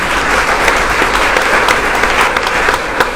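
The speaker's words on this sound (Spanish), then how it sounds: "Primero, un aplauso para los dos porque lo hicieron muy bien." An audience applauds two contestants at a competition, a steady, dense wash of clapping that carries on without a break from start to finish, with no voices rising above it.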